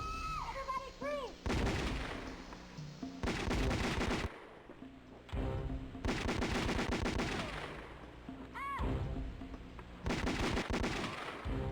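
Gunfire in a Sega Saturn shooter game, loud repeated bursts of shots in several clusters across the stretch, mixed with game music and effects.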